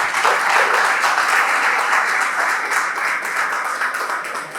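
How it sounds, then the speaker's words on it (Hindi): Sustained applause from students at a lecture at IHM Rohtak, a dense, even wash of many hands clapping fairly close throughout, with no voices over it. "तालियां बजाएं इसके लिए।"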